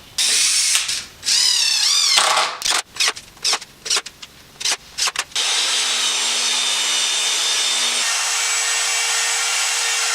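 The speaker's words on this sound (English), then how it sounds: "I think I'm gonna go ahead and put a screw in." A power drill drives a screw into wood in short bursts, whirring and grinding in loud stop-start pulses, then a long steady mechanical whine with a slight shift in pitch near the end.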